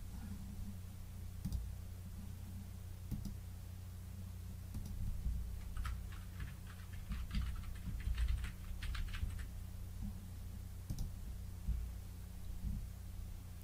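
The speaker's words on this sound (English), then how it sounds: "so I will just type them into the outline this time" Keys on a computer keyboard are tapped in short, irregular bursts, faint and close over a low steady hum.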